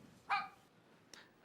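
A single sharp dog bark rings out near and loud in an otherwise quiet spot, followed by a fainter short yelp about a second later.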